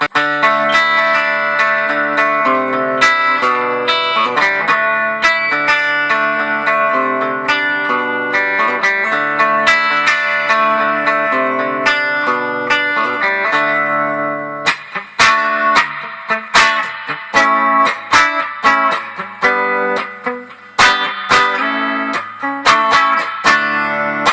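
Distorted 2013 Gibson LPJ electric guitar through a Marshall amp, playing sustained chords, then a choppier stretch of punchy, rhythmic strums with brief gaps, loud and continuous.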